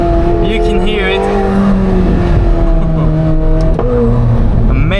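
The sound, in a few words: McLaren 750S twin-turbo V8 revving and downshifting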